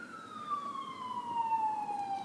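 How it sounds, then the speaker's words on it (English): An ambulance or police siren passes at a distance, a single long tone sliding slowly downward in pitch as it goes by, faint over steady background noise. "ambulance or the police go by"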